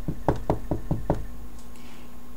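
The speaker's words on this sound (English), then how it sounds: "This time around it was a knock at the door." Knocking on a door at home: a quick series of about six sharp raps, close and distinct, followed by quiet room tone.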